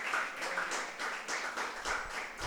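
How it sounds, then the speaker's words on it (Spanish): A church congregation clapping in rhythm during a Spanish-language worship service, steady pulsing claps repeating about twice a second, moderately loud and close. "Dale un fuerte aplauso a ese Rey de Reyes y Señor de Señores"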